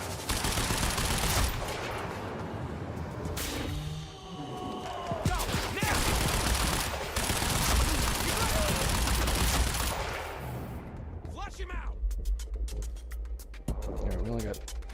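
Sustained gunfire in the action game Quantum Break, dense automatic bursts and volleys rattling almost nonstop, with a few brief lulls, whooshing effects and someone talking over the shooting.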